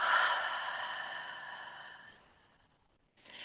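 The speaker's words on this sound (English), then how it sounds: "you just fill and you breathe in slow, like, and then you exhale slow" A slow, breathy meditation exhale fades gradually over about two seconds, then after a short pause a soft, close inhale begins.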